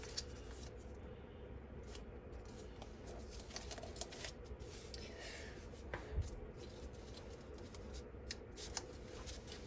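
Paper being folded and creased by hand for a paper airplane, soft crinkling and rustling with faint sharp crease snaps, close but quiet over a steady background hum.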